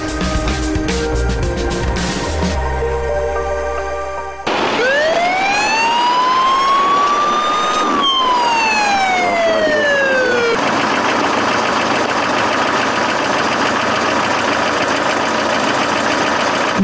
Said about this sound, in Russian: Скорая помощь едет на вызов к пациенту.